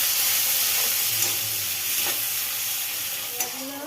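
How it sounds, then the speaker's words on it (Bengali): Chopped onions with a little salt frying lightly in a pan for a meatless Bengali biryani, giving a steady soft sizzle with occasional stirring scrapes, close and continuous with no talking. "অল্প করে পেঁয়াজ কুচি দিলাম একটু নুন দিয়ে দিলাম এটা একটু হালকা ভাজা ভাজা হোক"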